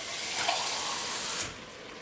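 A small amount of water pours steadily into a pot for Bolognese, an even, moderately loud rushing that swells briefly near the start and again before tapering off.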